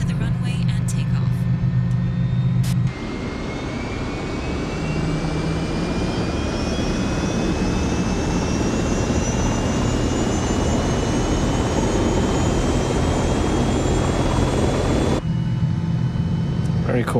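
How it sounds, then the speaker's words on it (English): Aircraft engines in MSFS 2020 during taxi and takeoff: a steady low drone swells into a loud jet-like roar with rising whine tones, then drops back to the lower drone near the end. "Taxi to the runway and take off."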